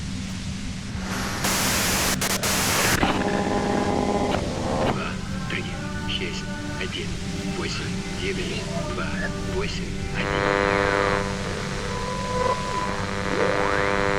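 Radio static and white noise crackle in the Disco Elysium video game, a hissing wash with warbling tones and bursts, mixed with game sounds.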